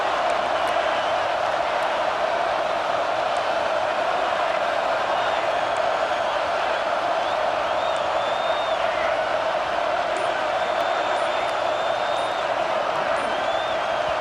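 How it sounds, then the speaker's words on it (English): Oklahoma Sooners fans roar on third down at their home stadium in College Football 26, a dense, continuous wash of crowd noise that stays level with no breaks. "The Sooner fans booming, a cacophony of noise at the Palace on the Prairie on third down"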